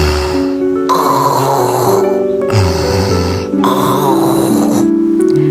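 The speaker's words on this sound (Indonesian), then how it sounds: "suaranya tidak stabil, naik turun, seperti ada hambatan pada saluran pernafasan, yang berarti perlu cek sleep apnea." Unstable, obstructed snoring of a sleeper that rises and falls unevenly, with possible sleep apnea; loud rough snore bursts come in three long breaths separated by brief pauses, close to the listener, with no talking.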